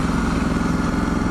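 A Ducati Multistrada 1260S twin-cylinder motorcycle engine thrums with a steady, low, throbbing rhythm, loud and close, with no other sounds.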